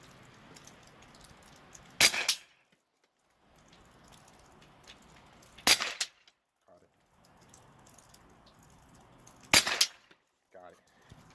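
A Marlin Model 60 rifle firing three sharp, loud shots spaced a few seconds apart outdoors, each followed by a short echo, with quiet ambient noise between them.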